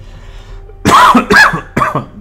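Three harsh, loud coughs in quick succession, close to the microphone, after a quiet moment.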